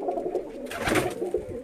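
Pigeons on a rooftop loft cooing, a soft close throaty coo swelling briefly over a low murmur of other birds.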